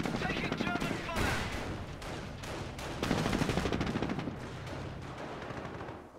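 Gunfire from a German counterattack near Caen in Company of Heroes, with dense bursts of machine-gun and rifle shots crackling in rapid clusters, loud and sustained, while voices call out over the battle.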